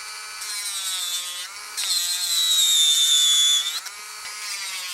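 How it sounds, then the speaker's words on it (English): Gel nails filed down by hand with a nail file: a close, steady rasping scrape in continuous strokes, growing louder and harsher midway before easing back, with no talking. "So let's start filing."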